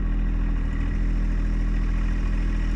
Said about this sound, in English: Here's a side view of loading the tractor onto the trailer.